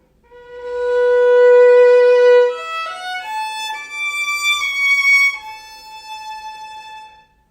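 A bowed string instrument holds a long steady note with vibrato starting late, then moves through several pitches, played solo and clearly, with a smooth sustained tone.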